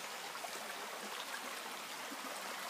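A small stream flows outdoors, giving a steady, faint, even rush of water that runs unbroken throughout with no voices.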